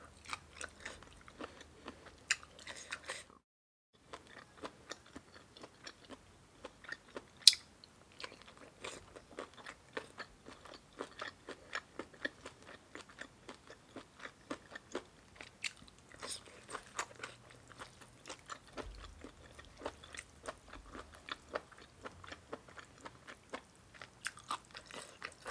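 Close, crisp chewing and crunching of spicy Thai papaya salad with egg-filled squid, a steady run of bites and mastication with a short pause early on and no talking.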